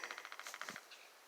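A rapid burst of sharp, evenly spaced taps rattles off for under a second, faint and distant, like a woodpecker drumming on wood.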